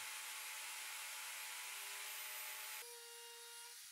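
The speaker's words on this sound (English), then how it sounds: "I'll make two channels with the dado stack in two runs" A table saw fitted with a dado stack cuts channels into a plywood tabletop, a loud, steady whining roar of blade through wood that drops abruptly near the end into a lower humming tone as the cut finishes.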